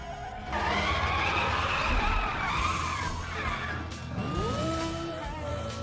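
Cars racing against a Ford GT on a highway in Need for Speed The Run, with a steady engine roar, sustained tire skidding and squealing, and a rising engine whine near the end.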